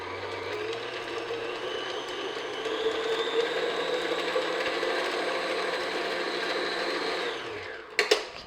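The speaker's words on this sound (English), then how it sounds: "I'm just going to beat for like a minute or so, just to soften the butter and make it nice," An electric hand mixer beats softened butter in a bowl, a steady close whirring motor hum that spins down near the end, followed by a couple of sharp knocks of the beaters.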